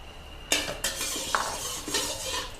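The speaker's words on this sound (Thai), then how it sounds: "พริกกับกระเทียมค่ะ ที่โขกไว้ลงไปผัดให้หอมฉุยเลย ผัดพริกกับกระเทียมให้หอมก่อนนะ" Pounded chili and garlic stir-fried in a little oil in a pan, with sharp scraping clanks of a spatula against metal at irregular intervals over a soft sizzle.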